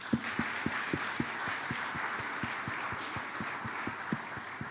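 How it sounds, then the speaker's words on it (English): Applause from an audience at a business awards ceremony, greeting the award nominees: a steady wash of clapping with sharp, evenly spaced claps standing out, held at a moderate level throughout with no talking. "Give yourselves a round of applause."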